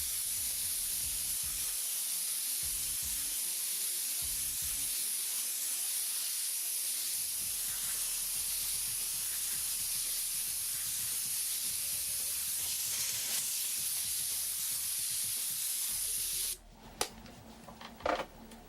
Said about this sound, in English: we're in a nice wide spray. half on the masking, half on our flag here